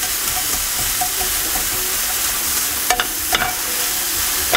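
Chopped onion frying in a pan while being stirred, with steady sizzle and a few louder scraping stirs near the end, close and alone without talk.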